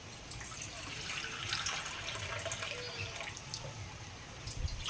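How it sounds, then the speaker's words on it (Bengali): Water measured by the bowlful is poured into a pan on the stove, a faint, steady trickling and splashing at low level throughout. "তাই এই বাটির মাপ করে জল নেব"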